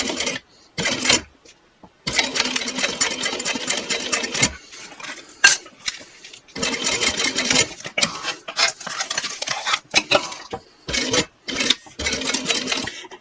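A sewing machine stitches over a thick bag seam with a hump jumper under the foot, running in loud close bursts of rapid needle chatter, some long and some short, separated by brief silences.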